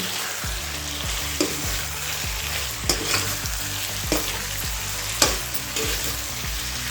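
Chicken chilli being stir-fried in a pan, a steady sizzle of frying under repeated scrapes and knocks of a spatula against the pan in an uneven rhythm, close and fairly loud, no talking.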